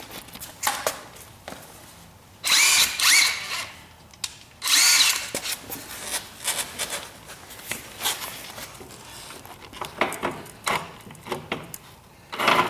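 An impact wrench works on drive-train bolts under a split-window coupe chassis in a home garage, firing two loud, rattling bursts of a few seconds each, separated by quieter shop clatter and handling noise.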